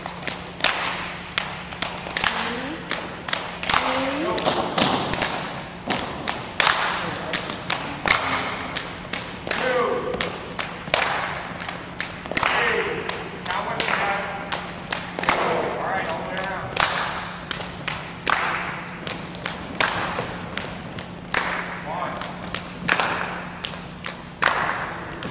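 Bamboo tinikling poles struck together and against the floor by beaters in a physical education class, sharp wooden claps and thuds repeating in a steady rhythm, loud and close, with a constant hum underneath.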